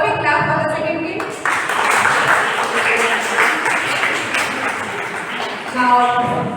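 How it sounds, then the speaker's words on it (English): Teachers clap for a team during an in-house school training session, a moderately loud burst of room applause lasting several seconds with voices murmuring underneath. "So all of you clap for the second team."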